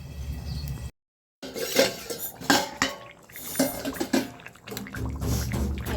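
A lid clanks onto a metal cooking pot holding a prawn, aubergine and potato curry, with a sharp metallic clink and rattling knocks after a brief gap, plus light kitchen clatter and a watery bubbling background.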